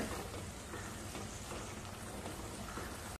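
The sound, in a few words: masala frying in oil until the oil separates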